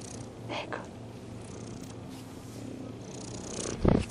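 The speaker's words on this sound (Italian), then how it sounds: "perché adesso comincerò a dar da mangiare al gatto Silvestro" A domestic cat purrs steadily and close, a low continuous rumble with a short louder burst near the end, with no talking.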